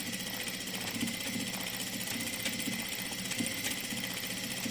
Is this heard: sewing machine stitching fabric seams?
yes